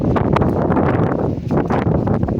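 Strong wind buffets the microphone with loud, continuous rumbling gusts, close and unbroken throughout.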